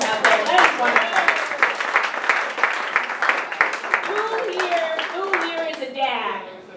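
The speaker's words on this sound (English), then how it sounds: "A round of applause for the moms out there." Applause and scattered clapping from a comedy show crowd, with a comedian's voice talking over it throughout.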